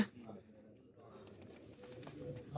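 Low pigeon cooing murmurs in a loft during a head count of the birds, soft and continuous, with people talking faintly in the background.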